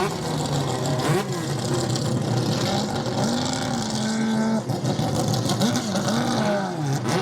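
A 1991 Mazda 787B rotary race car revving and screaming past at high pitch, engine tone rising and falling across several passes, loud and continuous with crowd and track noise beneath.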